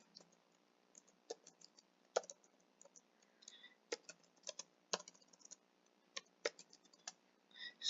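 Keys clacking on a computer keyboard while a pathping network command is entered, soft irregular taps in short bursts with brief pauses, close and quiet, no voices.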